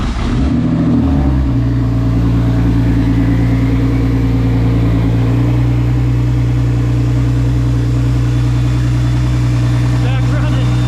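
A BMW B58 engine, recently misfiring on cylinders five and six, cranks and fires up, then settles into a loud, steady, rumbling idle that continues close and unbroken.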